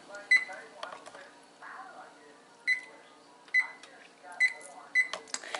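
Oven control panel being set to preheat to 375, sounding a series of short, bright electronic beeps at irregular intervals as buttons are pressed, with a person talking between them.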